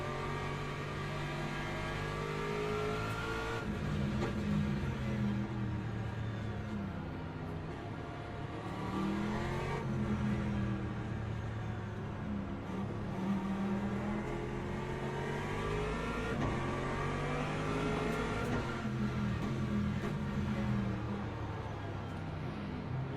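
Hypercar engines racing in a video game, a continuous loud whine of several engines revving and shifting through gears, with pitch sweeping up and down, no talk.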